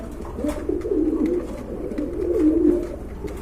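White Holi Cooper pigeons coo close by in a bird market, with two drawn-out throaty coos in a row, each rolling and swelling, over a faint background hum.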